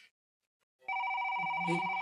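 A cellphone rings with a bright electronic tone that cuts in after a near-silent pause and holds steady and clear to the end, close to the mic.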